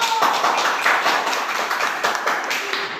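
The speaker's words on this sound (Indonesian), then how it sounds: "Ayo kita kasih tepuk tangan untuk Ayu." Classroom applause for a student after her presentation, a thin scattering of hand claps from a small group that rolls on steadily for about three seconds without talk.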